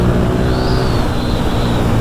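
A 1997 Suzuki TL1000S motorcycle accelerates hard nearby, a loud, dense engine roar with a whine that climbs and then eases off over about two seconds.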